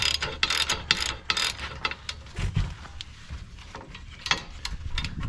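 Ratchet wrench with a 14mm socket on a 3-inch extension turning a wheel stud nut on a 2018 Subaru Outback, giving bursts of close, rapid clicking in quick strokes with pauses between.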